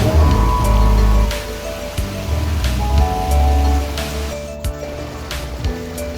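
Steady broadband rush of a natural mountain river at a bathing spot in Silang, Cavite, continuous and fairly loud, with faint background noises and no talking.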